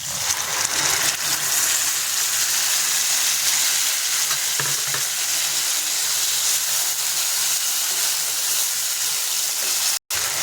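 Ground cumin and green chilli paste sizzles loudly in a hot pan of oil, a steady close hiss of frying with faint stirring scrapes throughout, briefly cutting out near the end.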